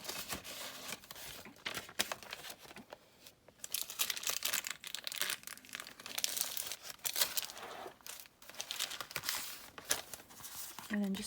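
Scrap paper rustles and crinkles as it is handled and pulled from a small envelope for a sea witch junk journal, close and continuous with a few sharper crackles, while a voice talks over it at times.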